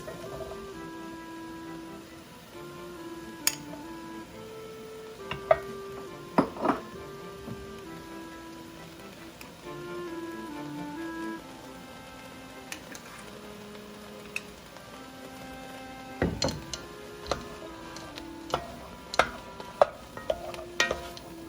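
Diced onion, carrots and mushrooms sauté quietly in a pan for beef stroganoff, a soft low sizzle punctuated by scattered ticks and scrapes of a utensil stirring, fairly faint and close, with no voice.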